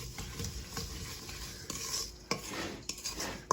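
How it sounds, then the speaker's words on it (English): Fruit filling stirred in a bowl, soft wet churning with rhythmic spoon strokes and a few sharp clinks of utensil against the bowl toward the end, close and unaccompanied by speech. "We just have to stir it up and make sure it's all well combined."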